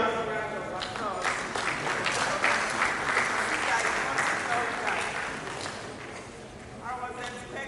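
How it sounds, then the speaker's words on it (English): Sustained audience applause at a stakeholders' conference roundtable, a dense, steady clatter of many hands clapping for several seconds, fading slightly toward the end as voices emerge. "Please, let's give him another round of applause."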